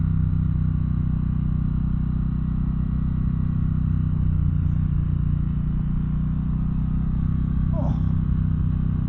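A 2024 Triumph Bonneville Bobber rides over a rough, bumpy road, producing a constant low engine drone and road rumble with faint rattles, steady and loud throughout.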